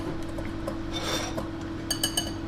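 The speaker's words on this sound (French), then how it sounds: "Je vais mettre maintenant dans ma farine mes épices et tout ce qu'il y avait dans ma petite assiette et je vais bien mélanger le tout." A spoon stirs flour and spices together in a bowl for a carrot cake batter. Soft close rubbing and scraping is capped by a few light clinks against the bowl at the end. There is no talking.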